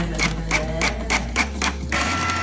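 A receipt printer prints a school expense receipt with a rapid, rhythmic mechanical chatter of repeated strokes, close and loud with a low motor hum beneath, and no one speaking.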